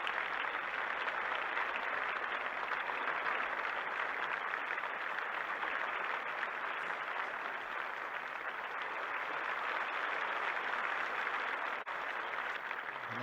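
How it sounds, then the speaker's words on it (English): Warm applause fills a 1960s tennis final for German player Wilhelm Bungert, a steady, dense wash of clapping from a large crowd that holds at an even level throughout, with no voices over it. "And there's very warm applause indeed for Wilhelm Bungert"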